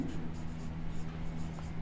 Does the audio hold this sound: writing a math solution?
yes